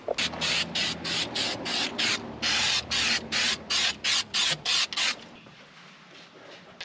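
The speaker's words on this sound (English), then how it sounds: "What we're actually able to do is spray it, and it's slowly eating away at the surface rust here" Rust remover is sprayed in about a dozen short, sharp hissing bursts onto the transmission and steering box of an old Ford Falcon that sat for 38 years, then the spraying stops, leaving a faint quiet background.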